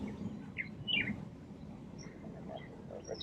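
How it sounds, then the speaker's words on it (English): Birds chirp outdoors in short, scattered, faint calls over a low, steady background rumble, with no one talking. "It sure does feel nicer outside hearing these birds, though."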